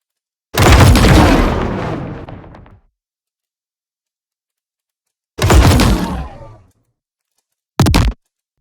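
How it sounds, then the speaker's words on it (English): Layered explosion effects for a spaceship flyby: two heavy booms with long decaying rumbles separated by silence, then a short, sharp final burst, loud and isolated. "Some explosions"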